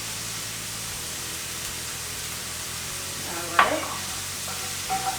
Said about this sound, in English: We got our onions and our garlic going here.